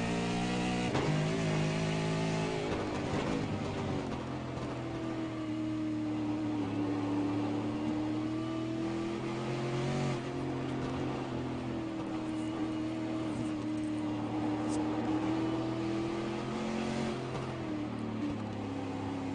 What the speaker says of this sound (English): Dustin Burkhalter making his way out of the stadium section and off into the countryside. Here on lap 4.